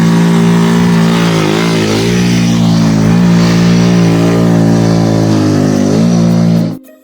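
Motorbike engine loud and close on a dusty mountain trail up Mount Sindoro via Kledung, a strained revving roar whose pitch dips and rises several times before cutting off abruptly near the end.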